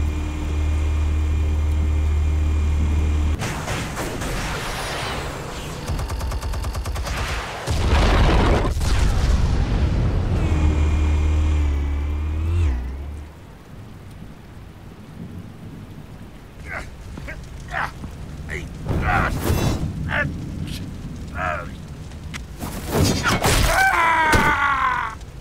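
Explosives detonating in the Batman Telltale video game, with deep rumbling booms and sustained roaring blasts, followed by scattered crashes and debris under a low, continuous rumble.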